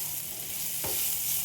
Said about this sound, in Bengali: পেঁয়াজগুলো দেখো ভাজা হয়ে গেছে।